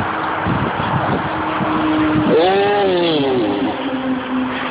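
Traffic on a road, a steady close roar of passing cars with one vehicle's engine rising and falling in pitch as it goes by, loud and continuous with no talk.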